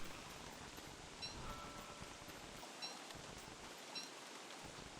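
Steady spring rain in the video game Don't Starve Together, a faint, even hiss of falling rain with a few soft ticks, continuous and without voices.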